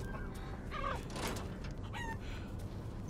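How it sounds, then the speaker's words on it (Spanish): Chickens cluck and squawk in a few short bursts in the video game Resident Evil Village, heard quietly over a low, steady game ambience with no voices. "Gallinas."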